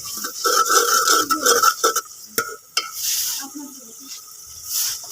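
Water poured onto browned onions frying in a pan for a potato and egg shorba, giving a loud close hiss and bubbling sizzle with stirring scrapes that settles into a softer simmer.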